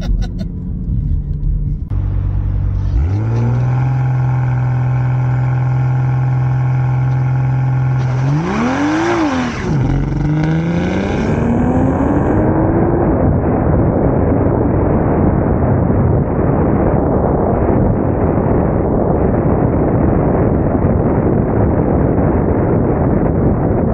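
A 2024 BMW M240i xDrive doing a launch control start: the engine holds a steady high idle, revs up and down, then roars into a loud, rising acceleration with heavy wind rush, fading as it pulls away.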